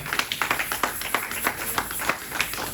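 A church congregation claps after a Bible reading, a brisk and even run of many hands clapping together in a reverberant hall.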